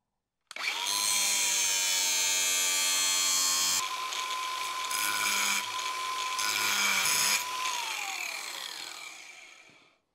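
A power tool cuts a welded metal garnish molding for a chopped 1957 Chevy convertible, a steady loud whine with shifting tone that runs nearly ten seconds before tapering off, close and alone.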